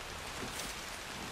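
Steady rain falls in the video game Red Dead Redemption 2, a dense, even hiss with a soft patter of drops close by, continuing without a break and with no voices.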